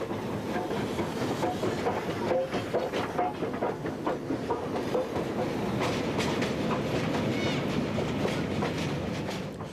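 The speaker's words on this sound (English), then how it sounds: "A few freight trains like this also employ the services of one of Baotou's dwindling number of JS or construction class locos." Freight train hauled by a Chinese JS (construction) class steam locomotive near Baotou, its steady loud rumble of wagons rolling past with rhythmic clickety-clack and some hiss, continuous throughout.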